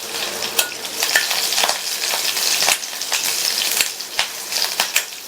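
Mustard seeds, green and dried red chilies and curry leaves fry in hot oil, giving a dense close crackling sizzle dotted with sharp pops and stirring scrapes, with no talking.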